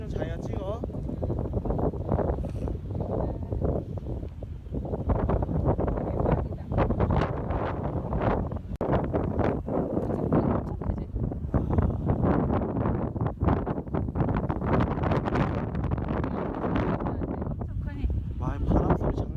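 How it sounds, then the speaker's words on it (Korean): Strong gusts sweep across the high Yukmaji mountain plateau in Pyeongchang, roaring and buffeting the microphone in loud, uneven surges with sharp bursts throughout, while a couple speak now and then beneath it. "와, 바람소리 장난 아니야."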